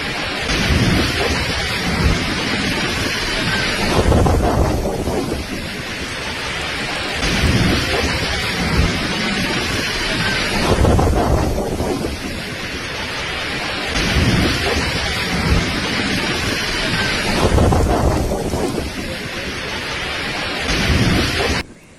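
A violent storm in Sicily with winds of about 203 km/h drives heavy rain in a constant roar, while deep rolling thunder swells in repeated waves every few seconds.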